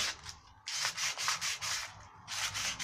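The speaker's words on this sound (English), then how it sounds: "roll it up the sandpaper like this and just clean the centre of it out" Sandpaper rolled up and rubbed against brass fittings on wooden garden furniture makes close, steady back-and-forth scratching strokes in a regular rhythm, with a short pause partway through.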